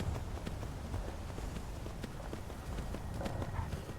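Faint, quick clip-clop of galloping horse hooves in Skyrim VR, a steady running rhythm under a low background hum.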